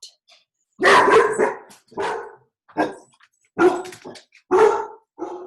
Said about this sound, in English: And that's my dog for those of you watching on the replay.